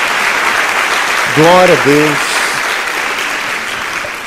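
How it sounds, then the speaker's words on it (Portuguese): A church congregation claps in a dense, continuous round of applause. A voice calls out briefly over the clapping partway through. "Dê uma salva de palmas a Jesus."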